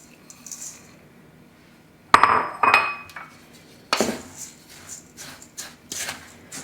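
Coconut and graham crumbs being mixed into a melted mixture in a bowl for Nanaimo bars: sharp clinks and scrapes of utensil on bowl arrive in a few loud bursts between quieter stretches, with no talking.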